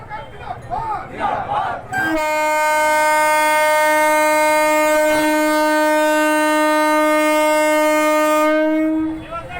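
A loud, sustained train horn blares steadily for several seconds after a burst of crowd noise at Amghata railway station as a train departs for Krishnanagar on its first day, then cuts off as voices return.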